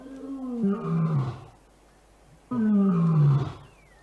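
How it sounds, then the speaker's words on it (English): Male lion roaring in the African wild, two deep, powerful roars about two seconds apart, each swelling and then falling off, close and loud with no other sound. "scent marking is reinforced by roaring, which can be heard for miles"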